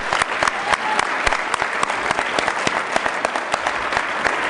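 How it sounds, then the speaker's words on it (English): An audience at a Rotary Club of Denver program claps in sustained, dense applause, loud and steady throughout with no break. "Let's give them a round of applause."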